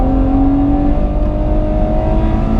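A Ferrari 812 Superfast engine pulls hard on the Fiorano track, a loud, steady, droning roar heard from on board with no voices.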